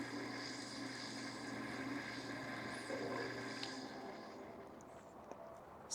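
A Co-Matic AF19 power feeder on a bandsaw runs in its fast mode, a steady motor hum and whir held at an even level, close and alone.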